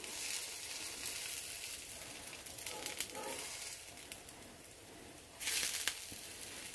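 Impossible Whopper plant-based patties sizzle steadily on a hot cooking surface, a continuous frying hiss with a brief scrape and a louder burst of sizzle as they are flipped over.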